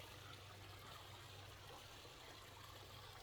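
Water running steadily down a drainage creek fed by a pool drain outside a family home, a constant close trickle with a broad hiss and no voices.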